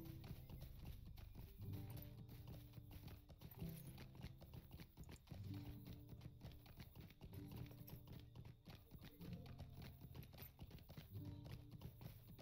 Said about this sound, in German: Das ist auch ein schönes Pferdchen.